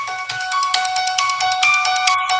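A phone ringtone playing the Halloween theme sounds as a tinkling, repeating melodic line with steady rhythm, fairly loud and close, with no voices over it.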